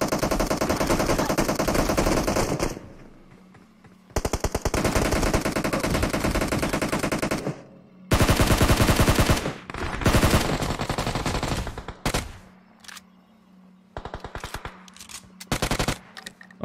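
Rapid machine gun fire in a video game, loud and close, arriving in several long sustained bursts separated by brief quieter gaps.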